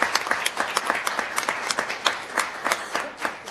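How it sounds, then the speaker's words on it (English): Moderate audience applause at a town meeting honoring a council administrator, with distinct individual claps audible in an uneven rhythm that rises and dips across the stretch. "Give her a round of applause."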